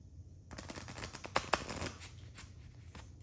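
Playing cards riffle in a quick shuffle, a rapid fluttering burst followed by a few soft snaps, close and fairly quiet.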